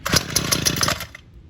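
A Homelite UT32650 string trimmer, just fitted with a new carburetor, roars briefly at high revs for about a second, then cuts out abruptly into near silence.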